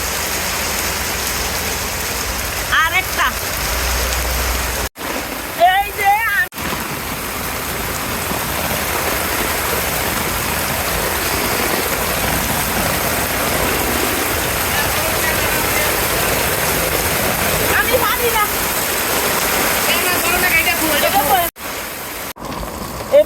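Heavy rain pours steadily on an open yard during a storm while fish are caught, a dense continuous hiss throughout with voices talking over it.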